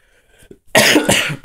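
A single loud, close cough comes after a short quiet stretch with faint breathy sounds, and the harsh burst lasts most of the remaining second.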